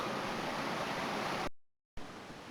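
A cascading waterfall in the bush on a circular walking track pours as a steady broadband rush, close and loud, cutting out briefly to silence before resuming.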